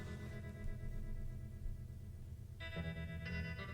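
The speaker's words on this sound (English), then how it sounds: "reverb and delay on that guitar" Electric guitar from a song, drenched in reverb and delay, sounding washy with sustained ringing notes, then a brighter strummed chord entering toward the end.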